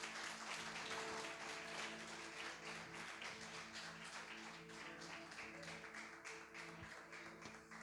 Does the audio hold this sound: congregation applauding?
yes